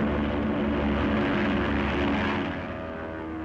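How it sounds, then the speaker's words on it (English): A searching propeller plane drones steadily overhead, a loud sustained engine roar that slowly fades as it passes, with no talk. "It's one of our planes, all right."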